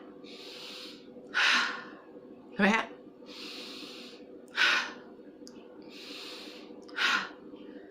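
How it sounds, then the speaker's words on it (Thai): Slow, deep breathing repeats in a steady rhythm: soft airy inhales alternate with three sharp, forceful exhales, close to the listener. A brief spoken phrase falls between breaths. "คุณอาจจะหายใจเข้าออกลึกๆเข้าออก หรือคุณอาจจะกระแทกลมหายใจลงไปนะ"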